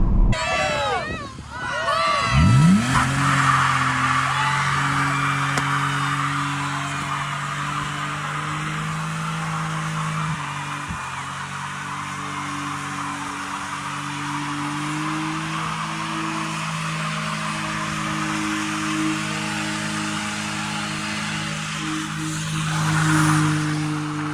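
A BMW E46 coupe does a burnout with a sustained high tire squeal over the revving engine, heard from nearby among a crowd that cheers and screams.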